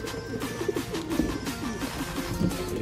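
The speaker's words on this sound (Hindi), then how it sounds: "ये देखिए जी भाई कबूतर" Domestic pigeons, fancy Kalia Kaldooma breed kabutar kept for sale, coo continuously in low repeated throaty pulses, several birds close by with a steady hum of background noise.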